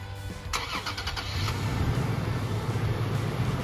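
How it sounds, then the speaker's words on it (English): A Toyota Tacoma pickup engine cranks and catches after a remote start from the key fob, settling into a steady, loud idle rumble at close range. "if you hold the lock button after pushing it 3 times, it'll remote start"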